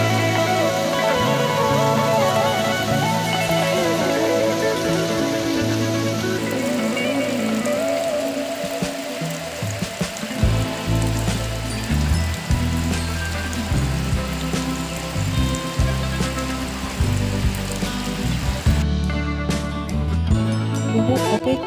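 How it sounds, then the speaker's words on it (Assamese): A spring rain shower falls in a steady close patter, dense drops drumming on surfaces throughout, the texture turning more uneven and splashy midway with no voices over it. "বহু অপেক্ষা অন্তত বৰষুণ জাকে দিলে বসন্ত আগমনৰ বতৰা।"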